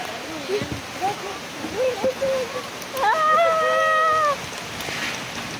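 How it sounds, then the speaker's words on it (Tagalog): Steady rain hisses on surfaces around a group outdoors, a soft continuous wash under scattered voices and a brief rising call. "Ulan na."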